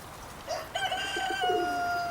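Wyandotte and Dorking hens with a cockerel at a poultry sale give brief clucks and a rising crowing call, close by and moderately loud over a quiet background, with no talking.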